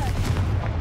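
A Confringo blasting spell cast in Hogwarts Legacy, a short, dense low rumbling burst with boom-like weight, heard alone in under a second.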